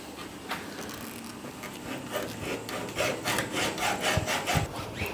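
Threaded wire sawing through the sealant of a car windscreen, a series of rough back-and-forth rasping strokes that grow quicker and louder toward the end, close up, no talk.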